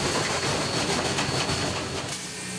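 Steam locomotive engine 487 running on rails on a heritage line in the American West, a steady near rumble and rattle with rolling clatter and a faint high whine, no voices.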